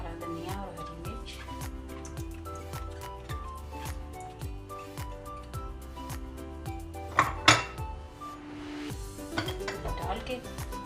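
Spices, fresh green coriander and green chilli being mixed into a mashed potato mixture for aloo tikki, with repeated clinks and scrapes of a spoon against a pot or bowl, steady and close throughout.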